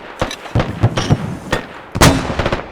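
Artillery rounds fired in the Squad military shooter, a burst of loud booming reports spaced irregularly with a heavy blast near the end, close and without voices.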